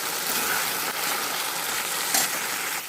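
Paste of ginger, cumin, green chilli and garlic with turmeric and salt sautéing in a pan: a continuous broad hissing sizzle, fairly close, with faint movement and no talk.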